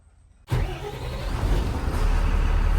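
A truck engine cranks to life after a moment of near silence, then settles into a loud, steady low rumble that holds to the end, with no voices.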